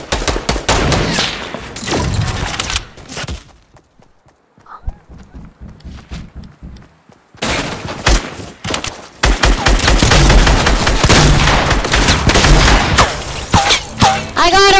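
Heavy gunfire in the Fortnite video game, with loud, dense bursts of shots that drop away into a quiet gap before resuming, then continuing steadily to the end.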